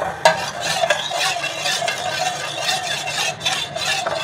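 Spoon stirring a samosa filling mixture in a pot, producing continuous scraping and swishing strokes with a few sharp clinks, close and fairly loud.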